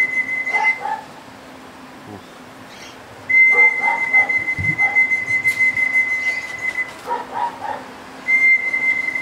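At a racing pigeon loft during the final race of the season, a person whistles to call the pigeons in, holding long, steady, high whistle tones in several bursts with faint background noise between them.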